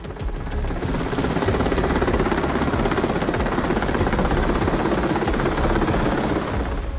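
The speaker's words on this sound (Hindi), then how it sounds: "और उड़ान भरते हेलीकॉप्टर।" An Indian military helicopter flies close by during an exercise in Arunachal Pradesh, its loud steady rotor thumping and engine roar filling the whole stretch without pause, no talking.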